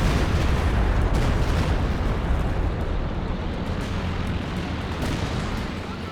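Stuka zu Fuß rocket artillery fires in a Company of Heroes 2 match, with a dense, roaring wash of launches and blasts that fades slowly, while a commentator talks over it.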